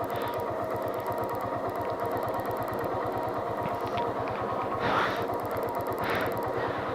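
A motorcycle engine in cold mountain weather on a ride from Dirang to Tawang runs at low RPM with a steady rapid thumping pulse throughout, close and loud, with faint wind noise.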